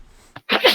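A single sharp sneeze bursts out, preceded by a brief quick inhale, loud and close during a tabletop game session.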